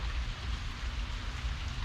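Steady rain falling outdoors, a dense, even patter that stays continuous and moderately loud throughout, with no voices.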